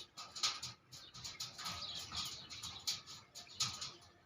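A pair of white Hazar wale pigeons coo and flutter nearby in soft repeated bursts, rising and falling in loudness, with faint background chirping and no talk.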